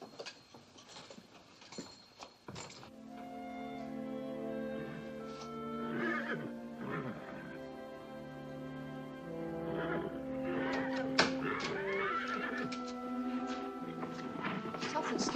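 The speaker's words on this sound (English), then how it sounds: "Something's scaring the horses." Frightened horses neigh and whinny repeatedly in a western-film scene, with hooves clip-clopping and a voice speaking amid the agitated cries.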